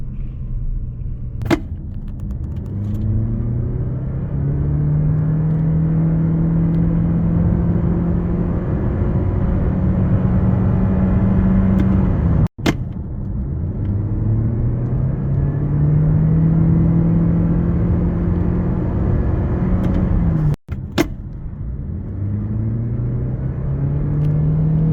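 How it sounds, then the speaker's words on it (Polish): A 2023 Toyota C-HR 2.0 Hybrid pulls away in repeated runs, each a steady engine whine rising in pitch over loud road rumble, broken by a few sharp clicks. "I też jak słyszeliście, auto nadal wyje."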